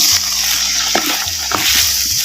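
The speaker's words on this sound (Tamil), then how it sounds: "அந்த தக்காளி பழத்தை நல்லா அலசி சின்ன சின்னமா நறுக்கி இப்ப சேர்த்துக்கிறேன்." Chopped tomatoes sizzle loudly in hot oil in a pan for a fish curry, with a constant frying hiss and a few soft scrapes of stirring, no voices.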